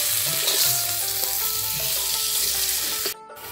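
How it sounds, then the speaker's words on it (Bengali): Rohu fish head frying in hot oil for a Bengali mukhi kochu curry: a steady, dense sizzle fills the clip, with light utensil sounds over it and a brief gap near the end. "মুখিটা দেওয়ার জন্য আর একটা রৌ মাছের মাথা ভেজে নিব"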